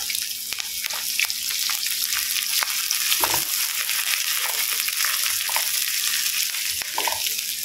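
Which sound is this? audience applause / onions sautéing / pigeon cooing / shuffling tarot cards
onions sautéing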